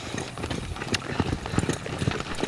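Horse loping under a rider, a rhythmic muffled clip-clop of hooves repeating steadily over a rumbly, noisy background at moderate distance.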